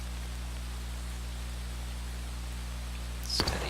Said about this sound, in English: this rain just gets on my nerves after a while